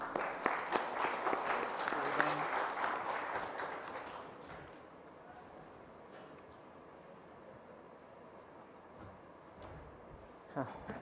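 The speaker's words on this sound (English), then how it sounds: "Let's thank the panel with applause." Audience applause for a panel at a conference on Indo-Pacific affairs, a loud burst of clapping for about four seconds that quickly fades to quiet room tone with faint movement.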